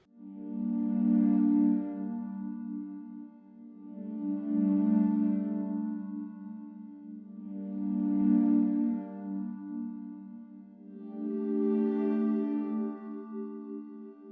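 Sustained synth pad chords from an Arturia MiniFreak V, four long swelling chords with rich harmonics, played alone with no talking.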